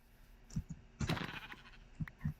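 Sheep in the Minecraft video game bleat in short, faint bursts at close range, three or four calls spaced irregularly, with light keyboard clicking underneath.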